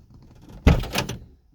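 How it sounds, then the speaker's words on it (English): Door of a 1977 Chevrolet Corvette C3 opening: a single sharp latch clunk followed by a short rustling swing, close and clear with no talk. "I'm gonna open the door again."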